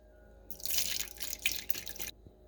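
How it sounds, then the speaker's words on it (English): Vegetable broth pours into an Instant Pot set to saute, a close liquid splashing and gurgling stream that starts abruptly, runs about a second and a half with a few bright splashes, then stops cleanly. "add some vegetable broth"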